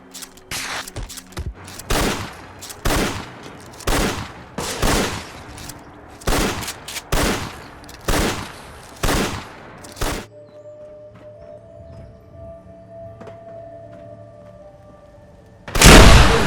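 Gunfire in the video game Fallout 4, heard as about a dozen loud sharp shots in an irregular string that stop midway. Quieter game ambience follows, then one last heavy burst at the end, with no talking.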